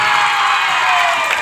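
Continuous crowd noise of clapping and cheering from an audience at a Rongali Bihu stage show in Patorkuchi, Assam, loud and sustained with scattered whoops.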